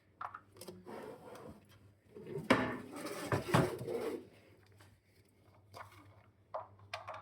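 Kitchen clatter as a wooden chopping board is moved and lifted away during pizza wrap prep, with a few knocks and scrapes, two louder clunks in the middle, and softer handling noises around them.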